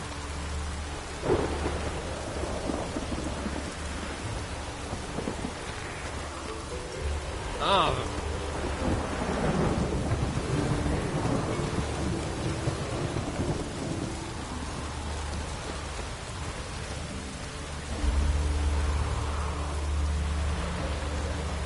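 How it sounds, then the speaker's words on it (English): Rain falls steadily in Witcher 3: Wild Hunt with rolling thunder, a sharp crack early and a longer rumble midway, while a voice speaks briefly over the storm. "No use doing any work in this rain."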